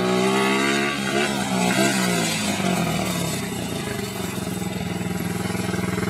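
A child's dirt bike runs close by, its engine a steady, loud buzzing drone with shifting pitch as it revs and settles, heard alone throughout.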